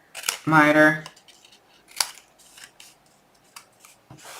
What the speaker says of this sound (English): You're going to cut up that score line, miter, cut off the bulk.